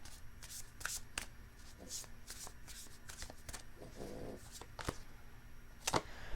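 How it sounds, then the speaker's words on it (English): Tarot cards are shuffled close up in quick riffles and soft slides, with crisp flicks and taps in an uneven rhythm, no talking. "Do two more shuffles."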